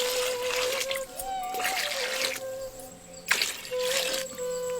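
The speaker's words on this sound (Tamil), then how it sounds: "4 ஆட்டுக்காலை சேர்த்து வேக வைக்கிறதுக்காக 2 லிட்டர் தண்ணியை ஊத்தி" Water, about two liters, is poured into a pot holding four washed goat legs for soup, giving a steady close splashing trickle with a brief louder gush partway through, and no talk over it.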